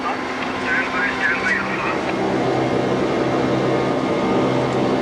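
Steady, loud roar of a Boeing 747 airliner's engines climbing out after takeoff from Bombay, heard from the flight deck as a continuous broad rumble with a voice speaking briefly over it early on.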